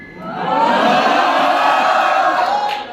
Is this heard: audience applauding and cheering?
yes